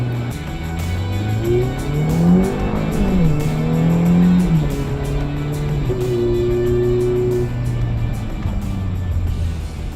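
A Ferrari F430 driven in sport mode pulls through its gears, the engine note rising in pitch, dropping sharply at each upshift and climbing again, loud and close inside the car.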